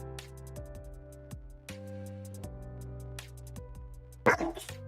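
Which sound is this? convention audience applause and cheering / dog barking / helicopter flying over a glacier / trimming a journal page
dog barking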